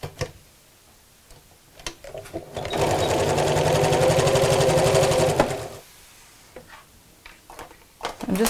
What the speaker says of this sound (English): I'm going to sew all the way around apart from a small gap in the top